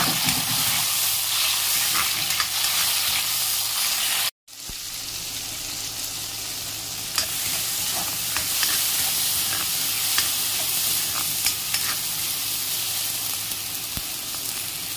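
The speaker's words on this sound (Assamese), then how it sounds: "এয়া ধুনীয়াকৈ বিলাহীখিনি সিজিব ধৰিছে" Chopped tomatoes sizzle and simmer in a pan with a steady, hissing fry, a brief cut near the start, and occasional stirring clinks, loud and close with no talking.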